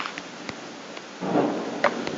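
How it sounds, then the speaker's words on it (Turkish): Heavy rain and a low thunder rumble in a survival video game, a faint rainy hiss with a few soft clicks before a swelling rumble rises in the second half. "feci yağmur yağıyor"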